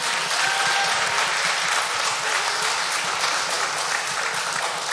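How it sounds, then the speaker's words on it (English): Church congregation breaking into loud, sustained applause, a thick continuous roar of many hands clapping close and full with no pause and no audible talk. "give him a thunderous round of applause."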